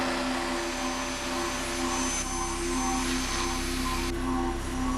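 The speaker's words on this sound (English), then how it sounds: "Do you remember the hassle vacuuming used to be before the Dyson digital motor?" Dyson cordless vacuum cleaner with digital motor running in a TV ad, a steady loud whirring whine that holds constant throughout, with no talking.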